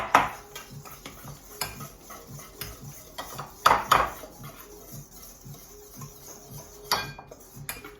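Flour, baking soda, salt and cinnamon are stirred together in a bowl, with a utensil clinking and tapping against the bowl at an irregular pace over a soft, continuous scraping, close by and without talk.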